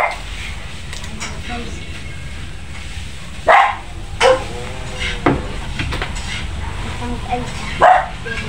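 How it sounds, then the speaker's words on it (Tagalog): A house dog barks at another dog outside: four or five sharp, separate barks spaced over several seconds, loud and close above a steady room hum. "Nagtahol siya kasi may aso sa labas."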